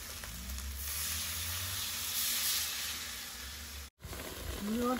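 Steady sizzling and hissing of chili and garlic stir-frying in a hot pan, continuous and close, with a brief cut near the end before the sizzle resumes.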